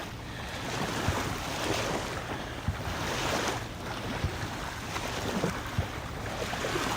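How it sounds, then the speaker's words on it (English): Ocean waves raised by a passing boat's wake wash ashore at Ettalong Beach, a soft continuous surf hiss with gentle repeated surges and light splashes, fairly faint with some wind. "The waves are luscious"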